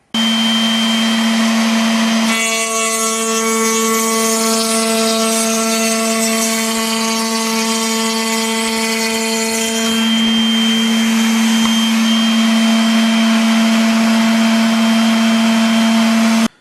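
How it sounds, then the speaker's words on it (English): A router cutter spins up and cuts a slope along the edge of a wooden door panel, giving a loud steady motor whine with a strong sustained tone for several seconds before settling back to a constant running hum. "Now I can adjust the height of the cutter and the fence to start taking the slope off."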